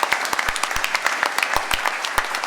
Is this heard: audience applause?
yes